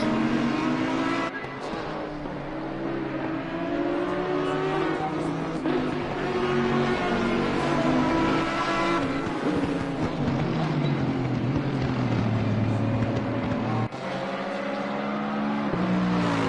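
A GT4 race car at full throttle on the Brands Hatch circuit, its engine note loud and sustained as it accelerates and shifts, with another car passing nearby; no talking.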